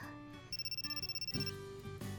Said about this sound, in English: I jumped a bit more than I probably should have when the phone call suddenly rang out during a serious discussion